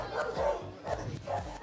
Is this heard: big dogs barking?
yes